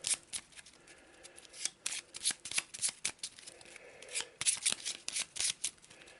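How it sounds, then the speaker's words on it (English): Arkham Horror exhibit cards shuffled by hand, a quick burst of crisp riffling flicks and soft slides that come in clustered bursts up close, with no talking. "Just give them a quick shuffle"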